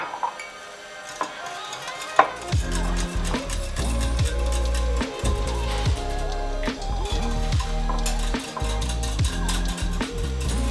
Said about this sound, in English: So I add on to that, then we continue mixing.